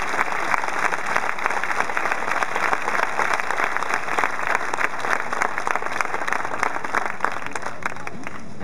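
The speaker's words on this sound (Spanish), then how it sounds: "Un aplauso para ellos, por favor." A large crowd at a World Youth Day 2011 gathering in Madrid applauds, loud continuous clapping with individual claps popping through a thick steady roar, no voices standing out.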